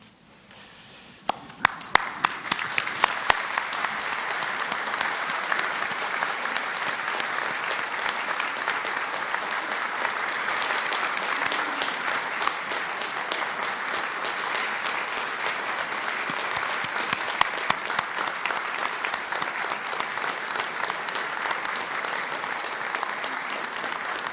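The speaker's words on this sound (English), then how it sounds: "And now I ask all our graduates to stand and applaud those who've supported them to this point" Graduates at a Graduate School commencement ceremony stand and applaud their supporters, a few sharp early claps swelling into a long, dense, sustained ovation from a large gathering that carries on evenly for over twenty seconds.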